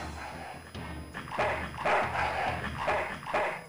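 In the Full Throttle video game, a dog barks in a rapid run of roughly six loud, close barks over a low background hum.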